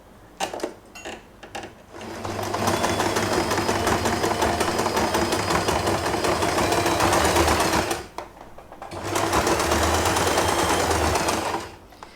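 A sewing machine running a back-and-forth stitch on fabric for a puffy hair bow: a few short clicks, then two long, steady bursts of rapid mechanical stitching separated by a brief pause.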